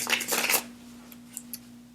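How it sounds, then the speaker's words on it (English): A deck of tarot cards shuffled close by: a quick loud papery burst lasting about half a second, then a few faint light taps and clicks. "Now I'm shuffling a bunch of times on camera"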